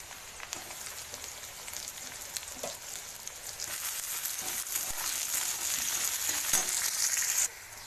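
Chopped potato and onion fry for ghugni, a dense continuous hiss of hot oil that swells in intensity, with occasional faint stirring knocks and no talking.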